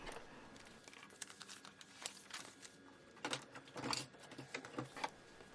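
Scissors trimming a magazine image for a junk journal, quiet crisp paper snips and light crinkling in irregular bursts, close up, with a faint background hum and no speech.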